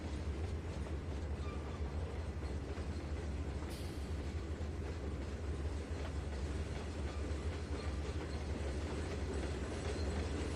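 In the Trainz 2019 simulator, a train backs up past a track switch and frog, a steady low rumble of rolling wagons with faint clickety-clack and occasional squeal, continuous and without talk.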